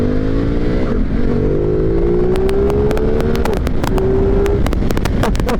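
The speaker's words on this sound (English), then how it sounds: "It's time to do our second test, our pull test. I put it in sport mode." A 2023 Ducati Multistrada V2S motorcycle in sport mode pulls hard, its engine rising in pitch through the gears with short shift breaks, loud and close under heavy wind rush, no talking.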